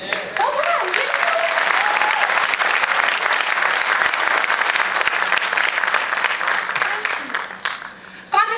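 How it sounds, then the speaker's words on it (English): Sustained audience applause at a Toastmasters speech contest, loud and dense from start to finish, with a few cheers rising early on before the clapping tapers slightly at the end. "I want you to give me that dream applause, will you?"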